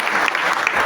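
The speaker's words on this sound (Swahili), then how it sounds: "Si tunapiga makofi kidogo" A short burst of audience clapping at a gathering of women presenting their manifesto, steady and fairly loud throughout with no voices over it.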